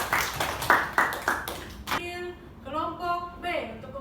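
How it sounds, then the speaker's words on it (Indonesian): Brief, uneven clapping from a classroom audience after a group presentation, a few loud claps in the first two seconds before a voice starts talking over the fading sound. "Oke, tepuk tangan."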